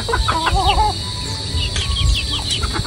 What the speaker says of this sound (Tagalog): Si Papa lang po ay nagpapakain po dito ng mga manok.